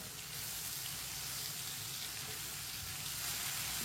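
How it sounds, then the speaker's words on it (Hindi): Red chili, turmeric and ground coriander sizzle on low heat in a pan for lauki sabzi, a soft, even, continuous frying hiss, fairly faint and unbroken throughout. "1 मिनट के लिए पका लेंगे मसालों को।"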